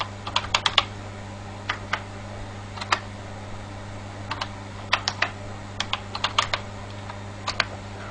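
Typing a username and password on a computer keyboard: irregular bursts of crisp key clicks with short pauses between, close and clear over a steady low fan hum, no talking.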